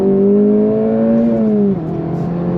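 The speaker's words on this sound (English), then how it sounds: "God, the sound of that engine" A 2025 Acura Integra Type S, front-wheel drive, revs hard in second gear under throttle. The loud, close engine note climbs steadily in pitch, then drops sharply and settles lower near the end, with no talking over it.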